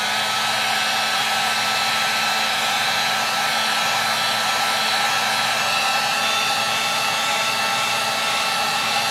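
Heat gun blowing hot air to shrink BELLABAYS heat shrink tubing onto speaker wire, a steady loud broadband whoosh with a faint motor hum that runs unbroken and alone throughout.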